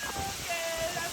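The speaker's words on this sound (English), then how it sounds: "now we just ended up at this amazing waterfall" A rainforest waterfall in Bwindi, Uganda, a dense, steady rushing roar of falling water filling the scene evenly, close and loud with no breaks.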